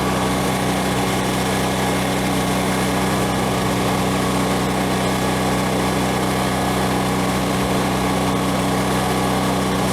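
A Harbor Freight Predator 9000 watt portable generator running steadily after about twenty minutes, a loud continuous engine drone with a constant hum and no change in pace for the whole stretch.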